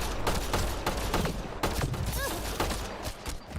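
Rapid gunfire bursts in the Mass Effect Andromeda video game, repeated sharp shots in quick succession over a busy combat backdrop with a brief electronic chirp.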